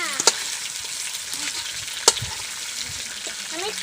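Desi chicken pieces fry lightly in oil in a village kitchen, a continuous crackling sizzle broken by a couple of sharp utensil clicks, steady and fairly close, no voices.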